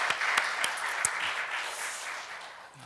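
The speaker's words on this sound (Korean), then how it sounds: "한국에 가셔서도 건강하시라고 우리 큰 박수로 축복하겠습니다." Congregation applause during a Sunday church service, a steady round of clapping with a few sharp, louder individual claps near the start, fading gradually toward the end.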